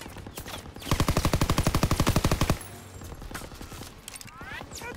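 Machine gun fire during a D-Day beach landing in a World War II game, a loud, rapid, evenly spaced burst of about twenty shots lasting under two seconds, followed by quieter scattered battle noise.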